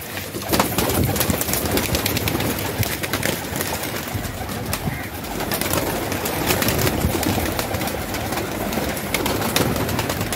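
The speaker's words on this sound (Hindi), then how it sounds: "ये सब फैंसी कबूतर भी है हम लोग के पास" Fancy pigeons coo steadily in a crowded pigeon loft in Andheri West, Versova, a dense, continuous chorus of overlapping birds close by, with occasional wing flutters and no talk.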